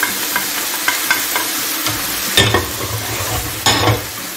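Onion and bell pepper fry in a pan while being stirred, a steady sizzle broken by scraping utensil strokes and a few louder knocks against the pan.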